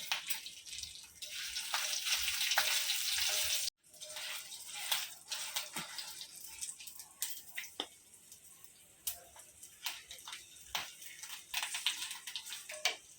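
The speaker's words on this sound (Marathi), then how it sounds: "लसूण घालून घ्यायचं आहे मिरची पण भाजून घ्यायची आहे त्याच्यामध्ये" Garlic and chilies hit hot oil in a pan, starting as a loud, dense sizzle that cuts off abruptly, then continuing as softer crackling with scattered pops and ticks.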